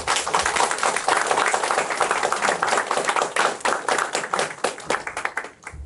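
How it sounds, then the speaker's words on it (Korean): An audience at a Buddhist studies summer workshop claps warmly to welcome a speaker, with many hands producing brisk, crackling applause that stays strong throughout and thins slightly near the end. "큰 박수 부탁드리겠습니다"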